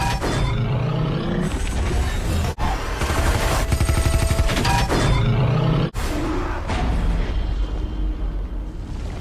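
Gunfire and explosive blasts erupt in a loud superhero film action scene, with heavy booming impacts and sharp cracks layered over a dramatic score.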